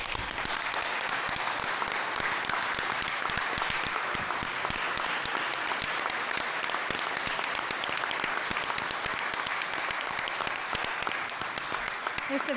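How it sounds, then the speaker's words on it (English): Steady, loud applause fills an indoor hall as the audience at a local all-candidates debate in Innisfil claps for the event volunteers, a dense continuous patter throughout with no pauses. "May I have all the volunteers who helped out with the 4 to 6 meet and greet and the 7 to 9:30 debate, please stand and receive some applause."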